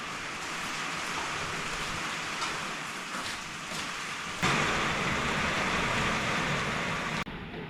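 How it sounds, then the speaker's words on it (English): Heavy rain pours in a dense, steady hiss that swells louder partway through, with no voices. "downpour."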